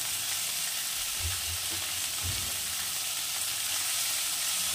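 Onion with cumin powder and spices frying in a pan for a small-fish curry, a steady close sizzle with a couple of soft stirring bumps and no talk.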